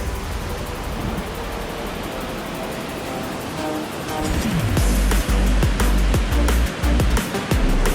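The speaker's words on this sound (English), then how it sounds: "This waterfall is so bloody picturesque." A rushing mountain waterfall gives a steady broadband roar in the first half, then louder low rumbling and sharp knocks take over, with no talking.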